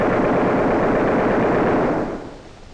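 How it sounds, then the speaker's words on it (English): A bomber's machine gun fires a continuous two-second burst of rapid, loud, close shots that stops abruptly and fades into a short tail of echo. "As soon as he gets in range, fire a 2-second burst."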